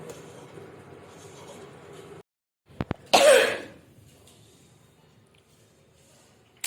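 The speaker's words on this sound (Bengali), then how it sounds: "আমার তো কাশি হয়েছে" A single sharp, loud cough bursts out near the middle, close to the mic, after a brief pause in the quiet background murmur.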